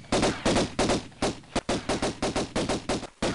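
Rapid bursts of gunfire from the 1996 video game Tomb Raider, about a dozen sharp shots in quick uneven succession, loud and close with no talk over them.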